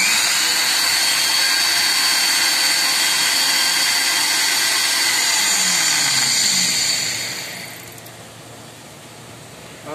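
A kitchen blender whirs steadily and loudly while thickening eggless mayonnaise, a constant high whine for several seconds before it winds down and cuts out, leaving a faint hum.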